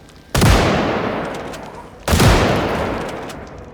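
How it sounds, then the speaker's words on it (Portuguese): Two loud, sharp gunshots in the zombie survival game Project Zomboid, spaced about two seconds apart, each with a long reverberant decay. "Vou dar tiro, tá, Júnior?"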